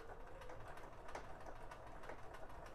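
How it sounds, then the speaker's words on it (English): A sewing machine runs a wide 4 mm zigzag stitch with length also set to 4 mm, giving a steady, fairly quiet mechanical whir with a faint rapid ticking of the needle throughout. "So if we set our machine to zigzag and we increase our stitch length and width to 4 millimeters and sew"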